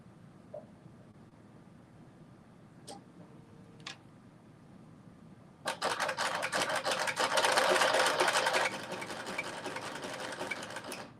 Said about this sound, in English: now I'm going to do that zigzag stitch just right over the strap